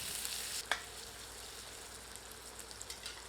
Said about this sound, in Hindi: आंच को मध्यम करके प्याज को तब तक भूनते हैं जब तक कि प्याज सुनहरे रंग में परिवर्तित नहीं हो जाती